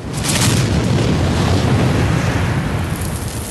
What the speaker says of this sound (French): Mais l'artillerie ennemie s'est mise à tirer.